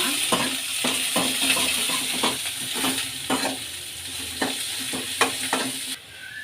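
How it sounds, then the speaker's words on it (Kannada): Coriander stems and curry leaves fry in a pan for a mango rasam, a continuous close sizzle broken by repeated scraping stirs of a spoon against the pan. "ಕೊತ್ತಂಬರಿ ಸೊಪ್ಪಿನ ದಿಂಡು, ಕರ್ಬೇವಿನ ಸೊಪ್ಪು ಫ್ರೈ ಮಾಡ್ಕೊಳ್ಳೋಣ."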